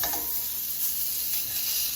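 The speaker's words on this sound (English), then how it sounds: "We're going to sear them up for a few minutes on this side and turn them over and sear the other side." Steak searing in a hot pan, a steady, dense sizzle with crackling hiss throughout, close and loud, with no talking.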